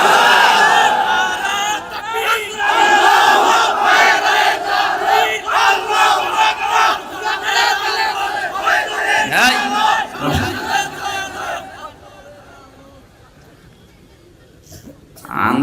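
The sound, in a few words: crowd shouting takbir in response to preacher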